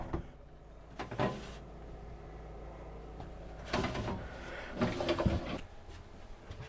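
A pull-out freezer drawer in a 2025 Rockwood Roo hybrid travel trailer, sliding and bumping in a few short clunks and rattles, close by and fairly quiet, with no talking.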